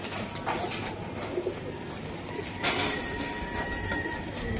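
Racing pigeons cooing softly near and far, repeated low coos over a steady background hum, with a few brief rustles and clicks.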